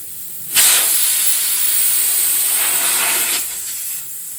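Air rushes out of a tire valve on a 1967 Chevelle in one loud, close, steady hiss lasting about three seconds, then tapers to a fainter flow.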